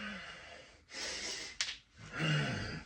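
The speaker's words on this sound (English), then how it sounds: "as you go down, breathe in, and then out as you come up." Heavy, forceful breathing during a sandbag pick-up exercise: loud rushing inhales and exhales close to the mic, with a sharp snort-like gasp in the middle and a strained, voiced exhale at the end.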